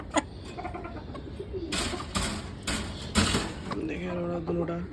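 Pigeons coo softly indoors, a low repeated cooing near the end, mixed with handling noise, rustling and a voice talking.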